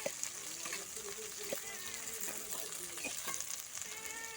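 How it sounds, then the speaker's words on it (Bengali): Onion pieces fry in oil with a continuous crackling sizzle, broken by occasional stirring clicks. A faint voice is heard under the frying. "পেঁয়াজের টুকরোগুলোকে দিয়েও কিন্তু খুব ভালো করে একটু ভেজে নেব"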